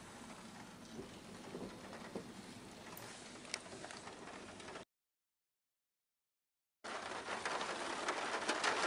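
Steady rain pattering on a surface in Sariska National Park, India, a dense even hiss with scattered drops, cutting out briefly before returning slightly louder.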